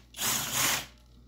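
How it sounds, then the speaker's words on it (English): A ratchet wrench loosens bolts on a Homelite 35, giving one loud, close burst of rapid clicking that lasts under a second before fading to quiet. "Let me take these bolts out and see."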